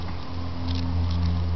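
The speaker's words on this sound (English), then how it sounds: "It's really wet and rainy." Steady rain patters outdoors under a wet, rainy sky, a continuous close hiss with a constant low hum beneath and no voices.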